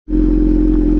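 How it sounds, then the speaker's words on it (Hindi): Superbike riding off-road through grassland: a loud, close, steady engine drone with a low rumbling tone that starts abruptly and holds constant throughout. "सुपर बाइक से फुल टू ऑफरोडिंग चल रहा है अभी।"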